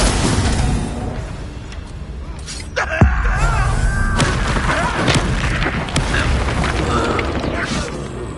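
A Confringo blasting spell detonates in Hogwarts Legacy, a loud booming crash with a sharp impact partway through, set against dense ongoing battle noise and rumble.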